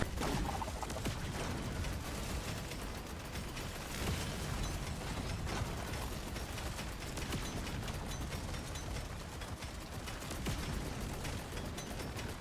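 Rapid bursts of video-game gunfire crackle continuously in a dense, noisy barrage, steady and moderately loud throughout with no voices.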